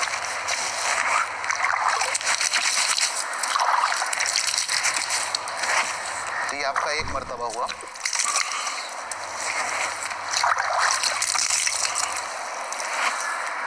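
Water splashing from cupped hands during face washing for wudu, a steady running tap and wet splashes under a voice giving instruction, with a short gurgle near the middle.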